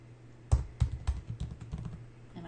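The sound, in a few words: typing on a computer keyboard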